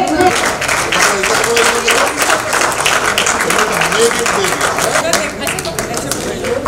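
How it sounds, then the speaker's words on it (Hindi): An audience at a ceremony in Jharkhand claps steadily for honoured athletes, with dense continuous applause throughout and a voice speaking over it. "तालियां होती रहे।"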